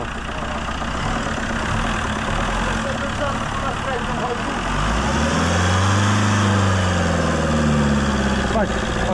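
A Fiat Doblo engine with an EGR sensor fault runs loud and close, steady near idle and then swelling into a held rev about halfway through, with the throttle kept open to the end. Voices talk over it.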